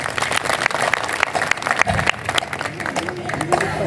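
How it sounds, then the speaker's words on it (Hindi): Audience applause at a Hindi poetry recitation in Bharatpur, a crowd clapping steadily with scattered sharp claps and a brief voice rising near the end. "तालियां जरूर बजाएं"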